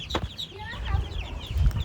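Chinese ducklings being raised on a farm in winter give a quick run of high, thin peeps over low, soft clucking murmurs, fairly close and moderately quiet.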